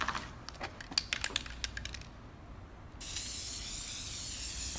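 An aerosol can of high max heat resistant paint sprays in a long, steady hiss after a short stretch of clicking and rattling, close and fairly quiet.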